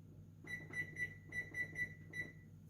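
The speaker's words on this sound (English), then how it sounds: "the alarm went off, so I'm going to check the bread" A kitchen timer alarm beeps in a steady repeating pattern, seven short high-pitched chirps in bursts, fairly close, with no talking, while bread bakes in the oven.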